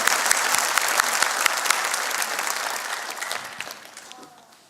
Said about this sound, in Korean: 우리 하나님 믿는다는 고백을 박수로 한번 돌려드립시다